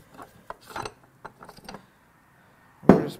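Metal parts being pulled from a torn-down Chevy NP246 four-wheel-drive transfer case: scattered light clinks and scrapes, then one louder metallic clank near the end, close and without speech.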